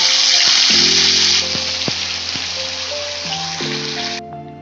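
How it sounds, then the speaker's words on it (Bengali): Ground spice paste is poured into hot oil and sizzles loudly up close, a bright hiss that gradually settles, with a background tonal hum and no speech. "পুরো মশলাটা এবার ঢেলে দেব"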